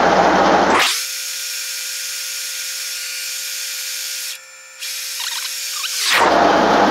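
A profile bending machine starts its rotation with a rising mechanical whine that settles into a steady, loud, sustained hum, dips briefly, then spins down, with a faint squeal of rubbing metal.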